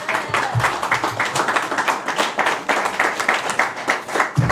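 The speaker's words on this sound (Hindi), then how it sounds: "तालियां आपकी कम है" Audience applause at an evening tribute to Pakistani film actor Shahid Hameed, dense steady clapping from a crowd filling the whole stretch at even loudness, with no voices standing out.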